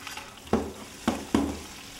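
Tomatoes dropped into a hot pan in a kitchen sizzle in three sharp bursts over a steady background hiss of frying, close and fairly loud.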